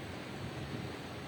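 An electric fan blows across a microphone indoors, producing a soft, continuous rumbling buffet of wind noise with no voices, steady and fairly faint throughout.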